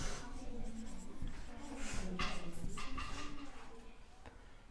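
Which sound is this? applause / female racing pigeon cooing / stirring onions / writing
writing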